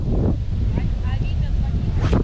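Strong wind buffets the microphone with a heavy low rumble while someone speaks in Ukrainian over it outdoors while fishing.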